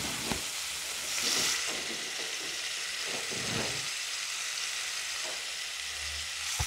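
Potatoes frying in hot oil, with a loud, continuous hiss and sizzle and a few thuds and scrapes as a spoon stirs them through the pan, no talking.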